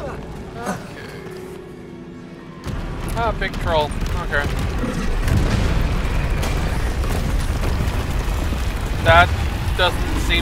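A fiery Confringo spell blast in the wizarding game Hogwarts Legacy, a sudden loud boom that opens into a long rumbling roar of debris and crumbling stone, close and sustained, with a voice speaking over it.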